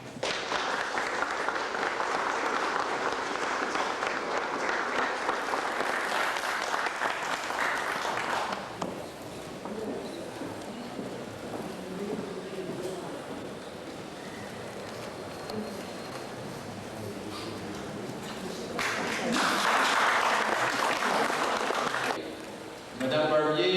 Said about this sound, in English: I think we owe her, for her remarks, a very, very warm round of applause.